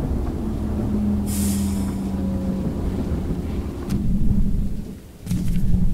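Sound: thunder during a lightning storm in the video game Choo-Choo Charles

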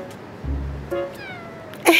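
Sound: cat meowing after waking

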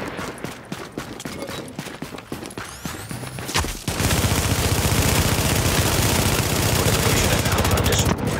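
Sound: gunfire on a fortification in a video game

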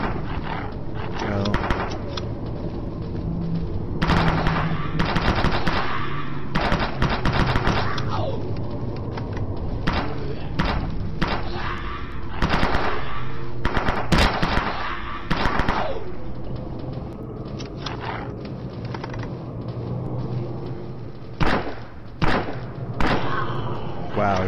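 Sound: gunfire from zombie shooter video game Dead Frontier

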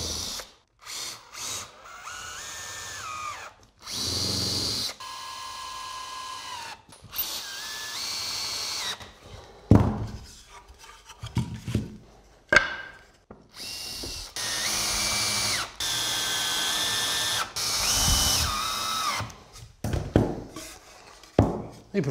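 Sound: power drill driving screws to assemble a wooden key cabinet

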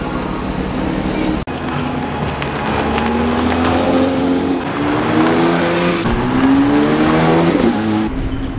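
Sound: Porsche race cars engines revving on circuit

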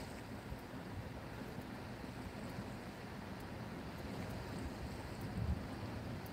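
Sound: strong wind while fishing

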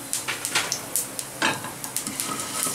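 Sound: fenugreek, nigella and fennel seeds sizzling in hot oil

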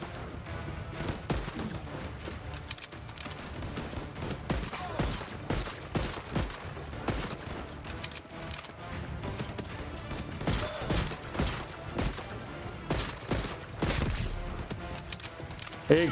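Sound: gunfire shootout in the video game Voidtrain

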